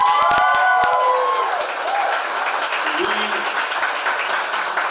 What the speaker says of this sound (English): Can we give them both a big round of applause?